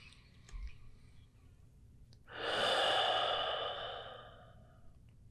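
A single deep, audible exhale rises and slowly fades during a yoga pose, breathy and close, following a few quiet clicks and rustles.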